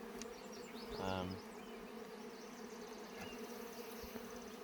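Honeybees from an opened hive, frame exposed as the beekeeper works and smokes it, drone as a steady layered buzz throughout, with one louder bee passing close and a brief spoken word.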